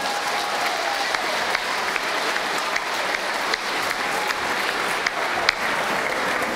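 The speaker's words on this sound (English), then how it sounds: "another round of applause, please, for our 6th grade band" An audience at a school band spring concert applauds steadily, dense clapping sustained throughout at a fairly loud level, with a few sharper individual claps standing out.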